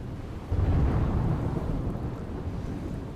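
A steady, dense roar of heavy monsoon rain in Gujarat, with a deep rumble swelling from the first half-second and holding loud and continuous to the end, no voices.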